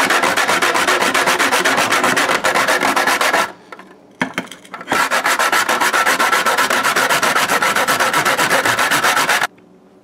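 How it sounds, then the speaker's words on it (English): A fresh whole nutmeg grated by hand for Guyanese Christmas eggnog, giving a loud, steady rasping scrape that runs continuously, breaks briefly for a few seconds midway, then resumes before stopping near the end. "So we're gonna grate our nutmeg right now."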